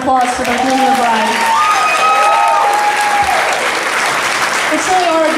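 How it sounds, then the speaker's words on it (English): Wedding guests applaud the bride and groom, a loud, dense burst of clapping that stays full for several seconds, with voices and cheers mixed in. "how about a round of applause for the groom and the bride?"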